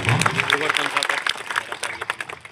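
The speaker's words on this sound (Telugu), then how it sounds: "మరొకసారి చప్పట్లతో అందరికీ అభినందనలు" A crowd at a Kala Bhairava Swamy temple breaks into clapping, dense and fairly loud at first and then thinning into scattered claps, with voices mixed in.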